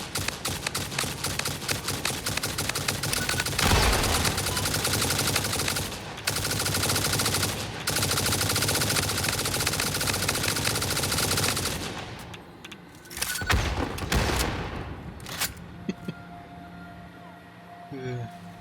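Turbo ammo fires in Satisfactory as dense, continuous automatic gunfire. Brief gaps break the stream before it stops and trails off into a few scattered shots and quieter game sounds.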